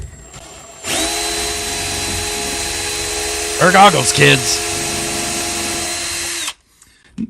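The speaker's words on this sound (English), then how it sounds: "So I'm going to start with a small drill bit and drill a pilot hole" A power drill whines steadily while boring a small pilot hole into a lock's pin area, loud and continuous for several seconds before stopping abruptly, with a brief spoken remark over the middle of the run.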